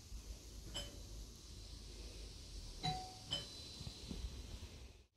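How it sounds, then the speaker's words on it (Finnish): A doorbell chimes in a few clear tones over a low, steady background hum, with no talking. "Pitäisi pimputtaa ovikelloa."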